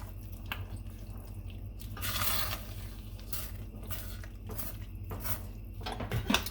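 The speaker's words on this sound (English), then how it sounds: "Now that it's started to boil, I'm gonna give it 1 more stir." A spoon stirring a pot of boiling food on the stove, with soft sloshing, bubbling and light clinks against the pot, quiet and close.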